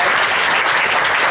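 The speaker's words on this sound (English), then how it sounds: "Round of applause for Amy" A short, loud burst of dense applause for Amy at a demonstration session, many hands clapping together close by with no speech over it.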